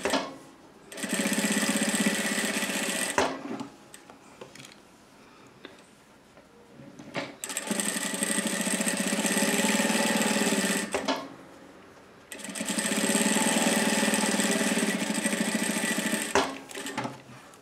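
A sewing machine stitches a fabric strap for a kitchen or bathroom paper towel holder, running in three long steady bursts of about two to three seconds each, loud and close, separated by short pauses with faint handling noise and no talk.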